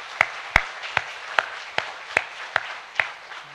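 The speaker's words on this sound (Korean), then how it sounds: "박수 한번 쳐주세요, 박수 한번." A handful of churchgoers at a Sunday worship service clap sparsely, about eight sharp, distinct hand claps spaced unevenly with quiet gaps between them, close and clear.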